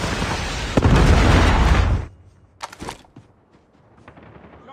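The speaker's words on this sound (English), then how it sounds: "Predator missile inbound." A missile strike in a shooter video game lands as a heavy, rumbling blast lasting about two seconds, then gives way to a few quieter pops and crackles in the aftermath.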